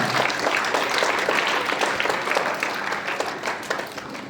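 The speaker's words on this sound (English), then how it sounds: "Give him a big round of applause." Loud, dense audience applause greets a chairman coming onto a stage at a school ceremony honouring captains and vice captains, sustained clapping from a large crowd that eases slightly toward the end.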